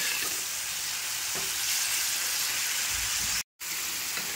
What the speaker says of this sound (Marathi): चला खांडक्या घालून परतून घेऊया